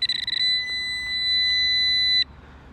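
A Minelab metal detector sounds a loud, sustained electronic target tone, piercing and steady, beginning with a few quick stuttering pulses and cutting off sharply after about two seconds, with no voices.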